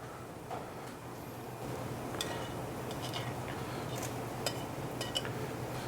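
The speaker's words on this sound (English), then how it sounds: "I'm gonna plate up the pasta right now." Spaghetti aglio olio is plated, with sparse light clinks and ticks of dishes and cutlery scattered over a steady kitchen hum, faint and intermittent, with a sharper knock at the very end.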